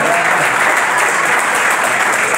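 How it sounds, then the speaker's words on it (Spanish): A stand-up comedy crowd applauding a comedian: loud, dense, sustained clapping from a full audience, continuous and even throughout with no speech on top. "Fuerte el aplauso para Alfredo Silva"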